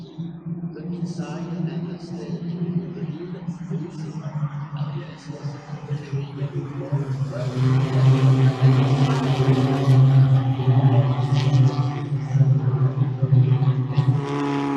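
Race cars circling a track during a race, a steady loud engine drone with rising revs and passing roars, voices faintly mixed in over the continuous motor noise.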